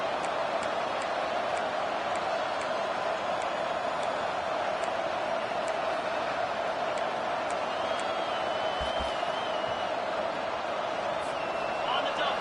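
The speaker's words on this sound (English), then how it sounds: "This crowd, full throat, splitting the eardrums and letting them know it's going to be a long day" A stadium crowd at a Kansas at Alabama college football game roars in a continuous, loud, full-throated wall of noise, with a commentator's voice running over it throughout.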